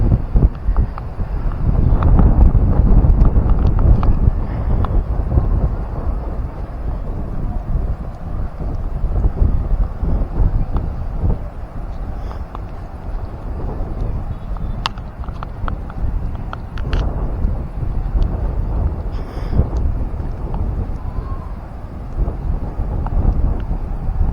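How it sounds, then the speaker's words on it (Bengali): Strong sea-beach wind near Mandarmani buffets the microphone throughout, loud rumbling gusts that swell and ease without stopping, with no speech heard. "মানে প্রচণ্ড হাওয়া দিচ্ছে আজকে"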